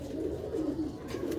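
Pigeons coo close by in low, soft repeated calls that roll on continuously through the short stretch, with no talking.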